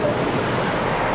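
Water pours over the sunroof of a Kia Telluride in a continuous, loud rushing wash that holds steady for the whole stretch, with no voices.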